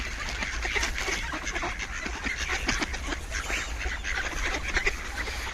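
A flock of hungry ducks quacks and honks continuously at close range, a busy overlapping chorus with no talking.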